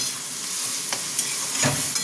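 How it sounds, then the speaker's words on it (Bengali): Vegetable chowmein frying and sizzling in a pan, a steady close hiss with a couple of soft stirring scrapes, no voices. "এটা একটু ভাজা হোক।"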